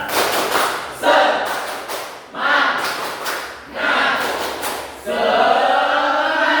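Elementary school class doing a rhythmic 'tepuk semangat' spirit clap, four loud bursts of group clapping in a steady pattern with short pauses between, ending in a longer sustained burst.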